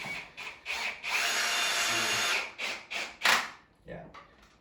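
A power drill whirs in several short bursts and one longer sustained run, driving a screw into wood while assembling a wooden climbing triangle, close and fairly loud, with faint talking nearby.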